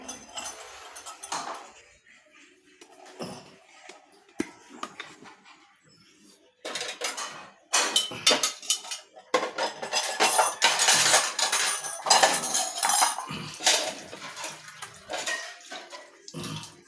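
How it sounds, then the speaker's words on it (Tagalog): Dishes and plates are washed under running water, with steady splashing and gushing from the tap and frequent clinks of plates and cutlery, growing louder and busier in the second half. "Tayo ay hugas na ng plato sa ating destination."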